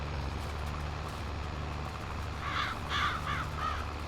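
Crows cawing in Farming Simulator 22, a short series of four or five harsh caws in the latter half over a steady low machinery hum from farm vehicles, moderately distant, with no speech.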